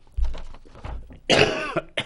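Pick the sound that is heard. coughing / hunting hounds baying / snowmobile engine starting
coughing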